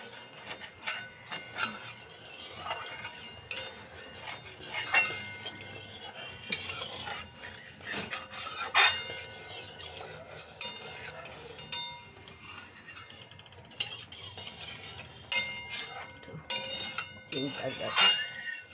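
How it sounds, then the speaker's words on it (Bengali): A spoon stirs spice masala and hot water in a kadai, making soft, irregular scrapes and light metallic clinks, close but fairly quiet. "গরম জল দিয়ে ওটা একটু নাড়িয়ে আমি তারপর প্রেশার কুকারে দিয়ে দিচ্ছি"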